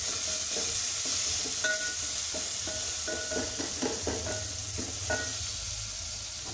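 A tomato and salt mixture stirred in a pot gives a soft, steady sizzle with a run of spoon scrapes and knocks against the pot, close and moderately quiet.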